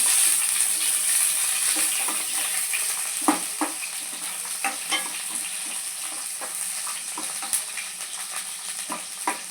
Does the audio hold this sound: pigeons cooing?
no